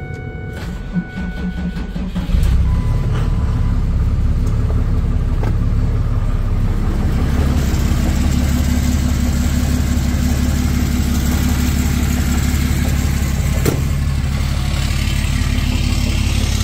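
A diesel truck engine cranks and catches after its glow plugs warm up, then settles into a loud, steady, rumbling idle close by.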